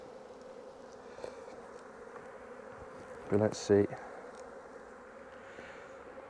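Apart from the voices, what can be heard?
bees buzzing around an open beehive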